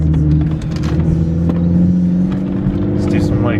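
Mazda 3 fitted with a Corksport strut bar driving along, a steady engine and road hum that rises slightly as it accelerates, with people talking over it inside the car.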